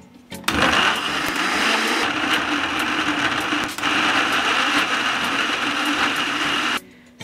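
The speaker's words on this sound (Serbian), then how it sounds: "Očišćen paradajz prebacit ću u blender." A kitchen blender grinds peeled, deseeded tomatoes into a purée, a loud steady motor whir running continuously for several seconds with a brief dip midway, then cutting off.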